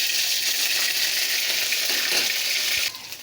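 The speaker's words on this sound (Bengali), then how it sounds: "1 চামচ আদা রসুন পেস্ট দিয়ে দিয়েছি, দিয়ে এটা একটু সুন্দর করে ভেজে নেব" Ginger garlic paste frying in hot oil gives a steady, loud, even sizzle that runs the whole way through, easing off slightly near the end.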